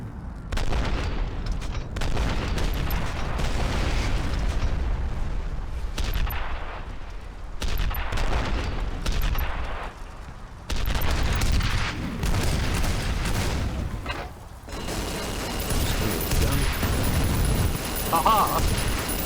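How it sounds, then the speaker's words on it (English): Rapid gunfire in F.E.A.R. shoots down incoming rockets, with loud sustained bursts, booming explosions and heavy rumbling that continue almost without pause. "I can shoot your rockets out of the air as you fire them."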